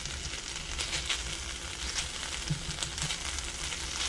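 Food stir-frying in a hot wok for tofu lettuce wraps, giving a constant close sizzle and hiss with faint crackles and stirring scrapes, and no talking.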